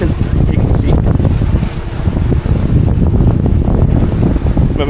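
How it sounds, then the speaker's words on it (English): Strong wind of about 20 knots buffets a sailboat under reefed sail, a loud, steady rushing roar with gusty microphone buffeting and water noise throughout. "We've got about 20 knots of wind."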